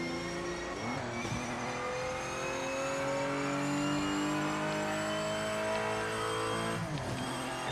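Racing car engine in Project Motor Racing, revving high and steady, rising through long stretches in one gear with brief dips at gear changes, loud and close, with no voices.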